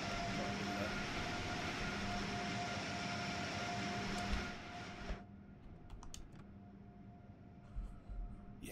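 An NJ Transit train in Train Sim World 3 rumbles with a steady broad roar that drops away partway through and leaves quieter clicks and rattles behind.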